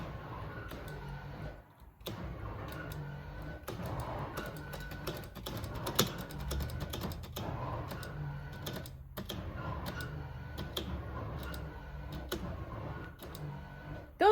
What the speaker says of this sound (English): Those headlight motors sound healthy too.